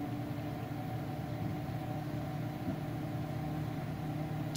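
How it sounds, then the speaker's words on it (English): A kitchen microwave oven hums steadily with a constant low drone and even background noise, unchanging throughout, with no talking. "we're gonna test with a microwave here. Go ahead and fire that puppy up."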